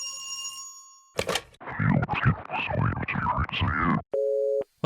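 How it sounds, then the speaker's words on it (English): A telephone rings in the horror game Dread Weight: a loud electronic ring at the start, then a long stretch of speech, then a steady two-tone tone near the end. "Let's answer this phone, guys."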